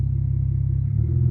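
A 2008 BMW 135i engine with stage 3 tuning idles with a steady low rumble, then rises slightly as it starts to rev near the end.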